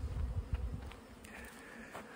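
Honey bees fly and buzz in a faint, brief hum, with a few quiet passes near the microphone after snow has melted.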